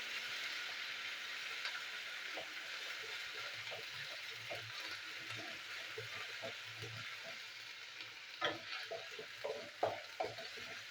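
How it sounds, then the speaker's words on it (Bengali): Ginger paste frying in a pan for jhinge aloo posto, a soft steady sizzle with the scrape of a spatula stirring, the scraping growing louder and more frequent near the end. "ভালো করে ভেজে নেবো।"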